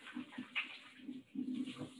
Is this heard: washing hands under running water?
yes